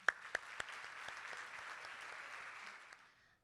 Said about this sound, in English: So help me give a round of applause to Cancer Care Services.